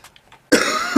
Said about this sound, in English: I do apologize, coughing right down your earlobes.